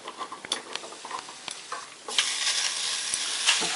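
Beef and Korean radish fry in a little oil in a pot, with close sizzling and scraping stirs. The stirring comes in bursts at first, then gives way to a louder, steady hiss, and no one talks over it.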